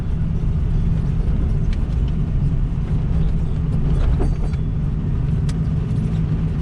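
A 2006 Ford F550 diesel truck engine rumbles steadily and loudly up close while the truck is swung around, a constant low drone with slight rises in revs and no talking.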